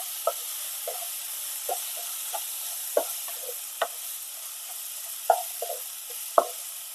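A spoon stirs turmeric, chili powder, cumin powder and garam masala into tomato masala in a pan for a garlic and fenugreek dish, with sparse scraping taps over a steady soft sizzle.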